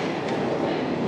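A moving passenger train heard from inside the carriage gives a steady, loud, continuous rumble with no breaks.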